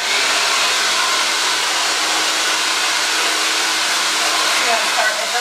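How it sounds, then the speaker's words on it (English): Close, loud, continuous whoosh of a hair dryer fitted with a nozzle, blowing hair over a round brush, a constant airflow hiss with slight shifts as the brush moves. "So when you're actually blow drying the hair, it's parallel with the round brush."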